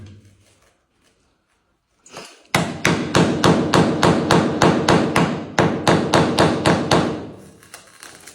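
Rapid series of loud, close hammer blows knocking up ceramic floor tile during a bathroom renovation, about twenty evenly spaced heavy thuds in a steady burst after a brief quiet pause, with no talking.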